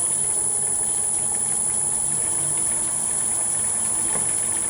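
A wood lathe turns at about 700 RPM with a steady, continuous mechanical hum and a high-pitched whine running throughout, close and even with no talk.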